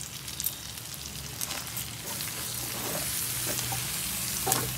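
Green chillies fry in hot oil in a pan as part of a homemade chicken fry, giving a close, continuous crackling sizzle with scattered pops and a faint scrape of stirring.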